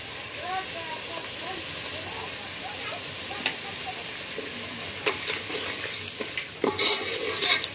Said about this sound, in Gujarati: ને તેલ માં સડી ગયું હે, ને હવે હવે નાખવાનું છે મરચું